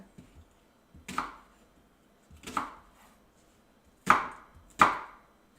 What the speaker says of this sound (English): Rough chop again.